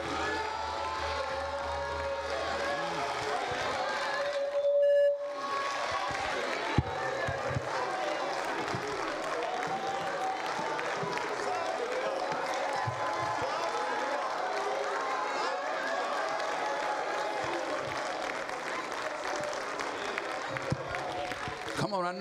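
A church congregation at a ministers and workers conference claps and cheers in praise, a dense continuous wash of hands and voices, loud and steady, with shouting mixed through the crowd.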